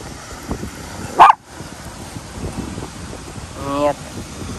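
A dog barks outdoors in wind, a sharp loud bark followed later by a softer yelping bark, while someone talks over it.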